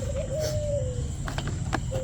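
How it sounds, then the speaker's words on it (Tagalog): Birds call in the background, with a dove-like coo drawn out as a steady tone and a few short chirps over a constant low hum. "Kaya mga huni ng ibon."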